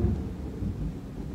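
Low, broad thunder rumbles through a thunderstorm, a steady dark roll with a heavier swell at the start and faint rain texture behind it, heard alone without voices.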